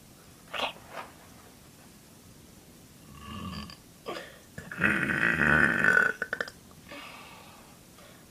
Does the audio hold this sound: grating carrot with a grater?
no